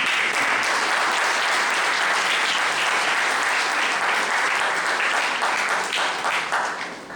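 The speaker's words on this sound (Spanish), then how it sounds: "recibamos un fuerte aplauso por tenerlo acá" An audience at a legal and political lecture applauds a speaker as he is welcomed, sustained, loud and dense, fading slightly toward the end.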